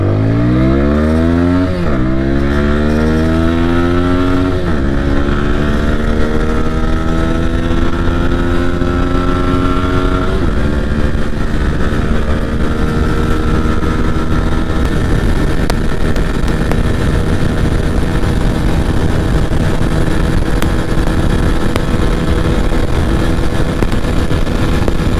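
A TVS Apache RTR 160 4V motorcycle runs flat out at top speed, its engine climbing through several gears with rising whine, then holding a loud, steady high-revving drone with wind rush for the rest.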